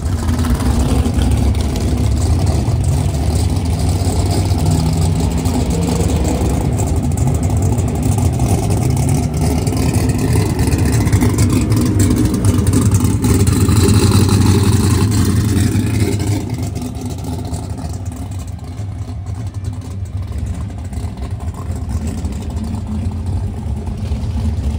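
A nitrous drag car lines up against a turbo car on 28-inch slicks, with a boosted big-block engine among them. Loud engines rumble and rev steadily, then fall back to a lower, rougher idle partway through.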